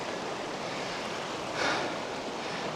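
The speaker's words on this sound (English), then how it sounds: "I got a nice little cascade waterfall off the back." Small cascade of water spilling off the back of a gold sluice in a high alpine setting near Fairplay, Colorado: a steady, close rushing splash with a brief louder surge partway through, no voices.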